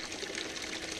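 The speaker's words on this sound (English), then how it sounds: "I got water coming in" Water is pumped into a homemade kayak livewell, a brief close, steady gushing and trickling flow with no talk.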